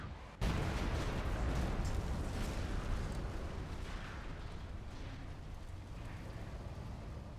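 A Shadow Sword super-heavy tank fires its volcano cannon in a video game: one sudden, massive blast that holds loud and dense, then a long rumbling roar that slowly eases off.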